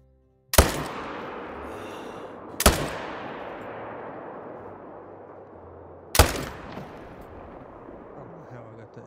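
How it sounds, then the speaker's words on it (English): Three sharp, loud rifle shots from TheHunter Call of the Wild crack across an open landscape, each trailing a long rolling echo, spaced unevenly with a long gap before the last. "That second shot off, but it ain't gonna matter anyway."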